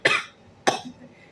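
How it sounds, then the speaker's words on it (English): Two sharp, forceful coughs from a sick person, close to the microphone, about half a second apart, with a faint quiet tail afterward and no talking. "I will cough throughout the video"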